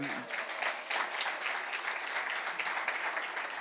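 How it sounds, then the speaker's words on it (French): An audience applauds children at a family talk event, steady broadband clapping filling the room without a break, with faint voices mixed underneath. "Est-ce qu'on peut les encourager, les enfants, les applaudir"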